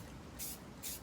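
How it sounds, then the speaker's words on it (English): A can of spray paint is sprayed onto a tumbler in two short, quiet hissing bursts about half a second apart. "So now I'm going to switch sides and then spray this area."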